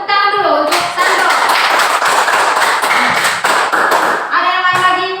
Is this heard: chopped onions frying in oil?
no